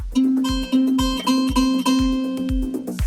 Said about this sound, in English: the 2:1 octave ratio sounds like this